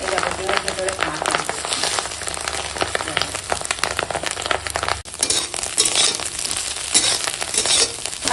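Fish roe frying in a pan for a Diwali dish makes a loud, dense, rain-like sizzle that carries on throughout, with a brief dip midway.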